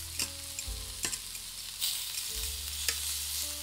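Tomatoes and four garlic cloves roasting in olive oil in a pan give a constant close sizzle, with a few sharp clicks and shifts as pieces are moved; no talking.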